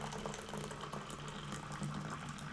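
Water poured from a kettle into a teacup to brew about six ounces of tea, a steady, faint trickling and splashing stream heard alone, without talk.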